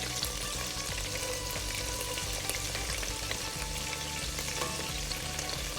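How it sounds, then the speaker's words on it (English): Scotch bonnet pepper and garlic frying in canola oil in a pan for a chicken stir-fry, a quiet continuous sizzle and crackle with small pops, steady throughout and without talk. "Then you have the Scotch bonnet and the garlic, and leave it to fry for a little bit, about 30 seconds."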